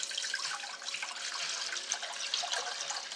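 Store-bought purified water pours steadily into a pot for brewing mead, a continuous close splashing rush with no voices.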